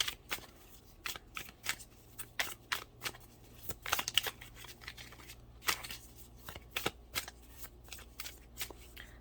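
A deck of tarot cards is shuffled by hand in a steady run of crisp riffling bursts and soft slaps, fairly close and quiet, with no voices.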